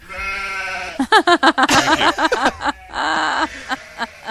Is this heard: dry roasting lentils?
no